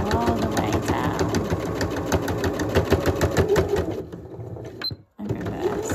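Sewing machine running in reverse along the edge of a fabric face mask, a fast even mechanical stitching rhythm close by that stops abruptly near the end with a brief click.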